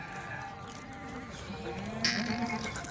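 Tethered Kathiawari goats give a single drawn-out bleat partway through, rising over a steady murmur of distant animals and background noise.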